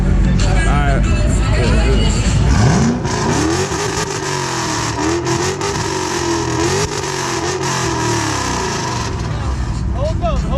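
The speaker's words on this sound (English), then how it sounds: "Full Borla exhaust, 1 3/4 inch long tube headers, Borla all the way back." A car fitted with a full Borla exhaust and 1 3/4 inch long tube headers revs loudly and steadily, its engine note rising and holding near the microphone, with crowd chatter and voices mixed underneath.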